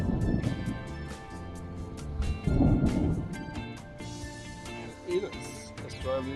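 Thunder rumbling during a lightning storm while driving between Tenterfield and Glen Innes, Australia, with low booming swells and rain noise; a couple of deep rolls rise and fade at moderate distance.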